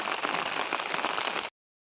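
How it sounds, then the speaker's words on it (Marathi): Heavy monsoon rain in the Konkan countryside, a dense, steady hiss of drops hitting surfaces close by, continuous and loud until it cuts off abruptly. "भरपूर पाऊस आहे"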